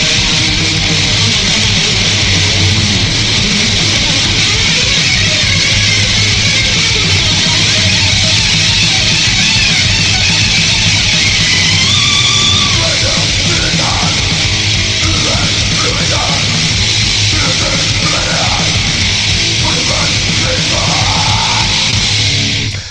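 A death metal track plays loud and dense throughout, with distorted guitars, pounding drums and harsh screamed vocals, steady and wall-like with no talk over it.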